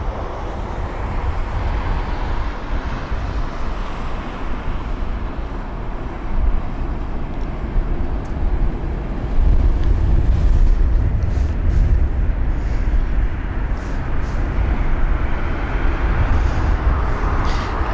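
An Airbus A319 jet, 23 years old, arriving at London Heathrow from Prague, gives a steady broad roar of engine noise that swells slightly midway, heard at a distance with no talk.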